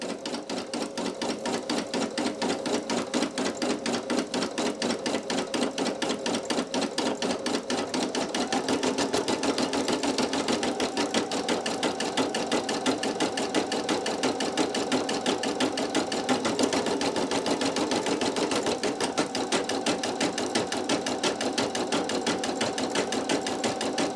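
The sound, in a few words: Brother PE800 embroidery machine stitching towel underlay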